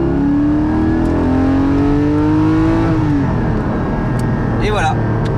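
Porsche 718 GT4 engine revving loudly through a newly fitted exhaust with the particulate filter removed, a sustained close roar whose pitch climbs and then falls away, ending in crackling pops.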